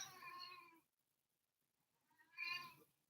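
A domestic cat meows twice, two separate drawn-out calls with a short silent gap between them, close to the microphone and otherwise quiet.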